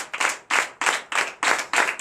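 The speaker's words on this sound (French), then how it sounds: "Donnez l'acclamation à Jésus." A church congregation at a night prayer service in Comé, Benin, claps in unison, six sharp, evenly spaced beats about a quarter second apart, loud and close.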